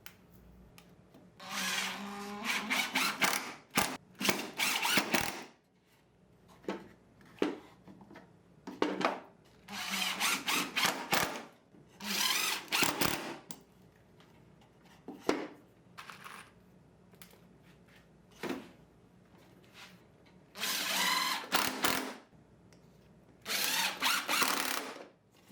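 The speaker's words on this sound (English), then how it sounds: "Next, I drilled wood screws to hold them together." A power drill drives wood screws into wooden French cleat wall hangers, whirring in several short bursts separated by quiet pauses, with small clicks and handling noises between runs.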